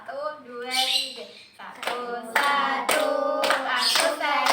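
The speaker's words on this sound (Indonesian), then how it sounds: "Tepuk tangan." Hands clap in a classroom in short, sharp claps at an irregular beat, mixed with children's voices and singing-like calls.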